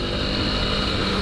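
An Aprilia RX125 motorcycle with a newly changed homemade air filter element runs as a steady, loud, dense engine drone with no variation and no talk.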